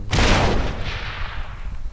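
A hand grenade mixed with a German grenade detonates in the sandbox game People's Playground, giving one sharp, loud blast with a booming, rumbling tail that fades over about two seconds, with no voices.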